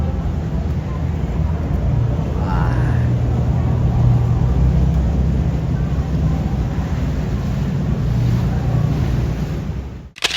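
Tour boat cruising on the Chicago River downtown: a steady low engine hum with water wash and wind noise, running evenly throughout, with faint voices in the background.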